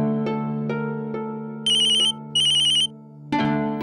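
A telephone ringtone chimes alone: several spaced ringing tones followed by two bursts of bright, trilling electronic ringing, then another burst starting at the end, loud and close.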